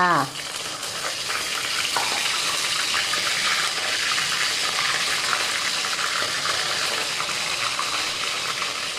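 Loud, continuous sizzling and crackling of skin-on fish frying in hot oil in a pan, steady throughout with faint clatter at the start.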